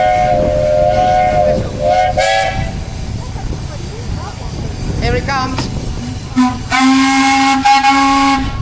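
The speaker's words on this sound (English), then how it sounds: "that one is actually off of a tugboat, that whistle" A tugboat steam whistle fitted to a steam engine shrieks in several bursts, the last one long and sustained, with the engine rumbling close by at a steam parade and someone talking over it.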